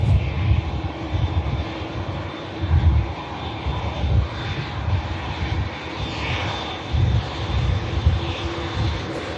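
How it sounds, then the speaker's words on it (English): Boeing Dreamliner jet at Manchester Airport, a loud, sustained engine roar with deep pulsing rumble and a thin high whine running over it, steady for the whole stretch. "Here comes the Dreamliner as the Ryanair lines up."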